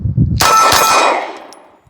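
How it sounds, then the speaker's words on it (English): A single loud, sharp report from a Glock 19 pistol fitted with a Sabre Dagger slide, fired outdoors, followed by a bright metallic ring that decays over about a second, with soft handling noise just before. "Let's draw and fire a few rounds and see what we can get."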